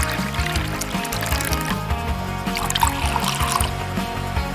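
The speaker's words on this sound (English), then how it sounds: "so you can pour out a nice clean glass of water." Filtered water poured from a camping filter device into a glass, a steady close trickling pour with splashing and a faint rising fill, under a continuous rhythmic music bed.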